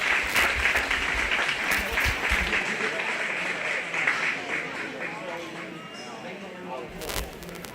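Sustained audience applause at a 4-H/FFA cattle show following a class of Foundation Simmental heifers, steady dense clapping from a crowd lasting several seconds with faint voices mixed in.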